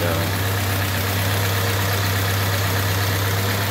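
A 1955 M38A1 Army Jeep engine with a freshly rebuilt Carter YS-950 S carburetor runs at a steady idle, a loud close low drone with a constant hum and no pauses throughout.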